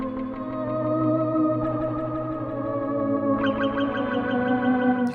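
A sustained, shimmering pad tone, washed in reverb and chorus, with a brighter layer of harmonics joining partway through.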